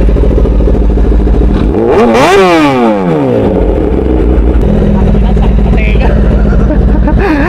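A 10R motorcycle fitted with a full exhaust revs hard and loud close by, its pitch sweeping sharply up and back down in one big burst before settling to a rumbling idle, with voices talking over the engine.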